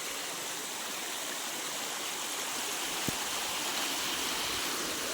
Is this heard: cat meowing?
no